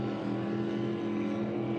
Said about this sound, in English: Identical engines in both of these boats